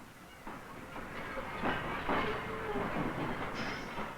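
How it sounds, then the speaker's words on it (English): A passenger train rolling toward Chengdu, with a steady rumble, rhythmic wheel clacks and a faint thin squeal or whistle near the end, heard from inside the carriage. "As they depart on a 2-day train ride to the city of Chengdu"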